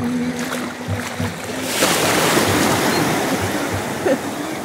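Ocean waves roll and crash nearby at Real, Quezon, a loud sustained wash of surf swelling midway and continuing steadily, with a brief low thump near the end.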